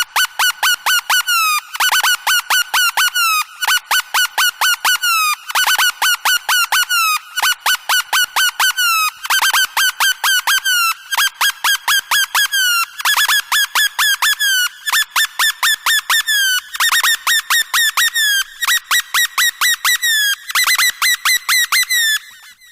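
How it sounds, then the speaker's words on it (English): Rising synth riser with pitch bend: a rapid train of bright, squawking staccato synth stabs that repeat steadily while their pitch glides upward over about twenty seconds, loud and alone. "here's where I have it doing the pitch bend, where it's actually rising"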